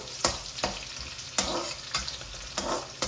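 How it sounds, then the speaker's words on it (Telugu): Garlic frying in a pan while cooking methi chicken, a bright sizzle punctuated by regular scraping stirs of the spoon, close and fairly loud, with no one speaking. "దానిలో గార్లిక్, వేయించుకోవాలి"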